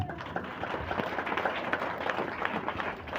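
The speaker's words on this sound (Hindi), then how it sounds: "ताली बजा सकते हैं" A church congregation claps steadily together, a dense and fairly even patter of many hands that runs the whole time without any voices on top.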